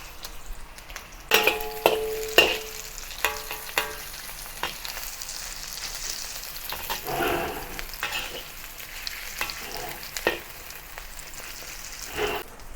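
A mashed potato patty with ground meat pan-fries in oil over low heat in a wok, giving a steady soft sizzle broken by several sharp clinks and scrapes of a utensil against the pan.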